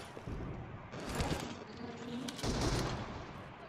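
Gunfire in a PUBG-style mobile battle-royale game where an M24 sniper rifle is in play: two sharp, loud shots about a second and a half apart, each cutting through a busy, noisy game background.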